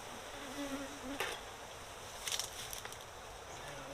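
Honey bees buzz around a DeHaven honeycomb hive box, a soft continuous hum with a few louder passes as individual bees fly close by.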